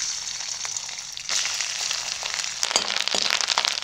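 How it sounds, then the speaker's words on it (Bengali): Grated coconut fries in plenty of hot oil in a kadai, a dense steady sizzle with crackling that grows louder and busier as it spits and pops, heard up close with no voices. "তেল গরম হয়ে গেছে, কুচানো নারকেল ভেজে নেব।"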